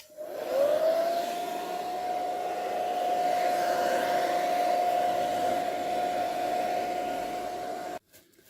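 A handheld hair dryer switches on and runs steadily for several seconds with a constant whirring hum and airflow hiss, close and loud, then cuts off abruptly near the end.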